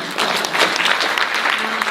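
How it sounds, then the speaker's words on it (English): An audience at a community foundation's 100th birthday event bursts into dense, loud applause that stays steady throughout the short burst. "Round of applause for that"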